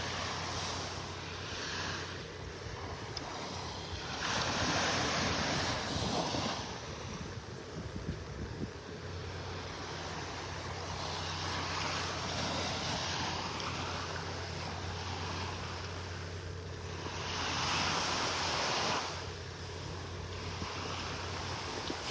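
Ocean surf on Vanderbilt Beach in North Naples, Florida, heard on a morning walk, with waves washing in rising and falling swells under steady wind buffeting the microphone.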